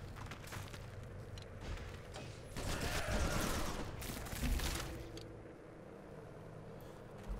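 A gunner unit opens fire in the Civilization Beyond Earth video game, a rapid burst of gunfire swelling into a dense fusillade mid-clip and then fading into a rumbling background.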